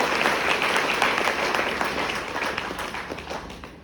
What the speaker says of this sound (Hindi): Diamond creator mister Harindra Yadav ji के लिए भी एक जोरदार में ताली चाहूंगा।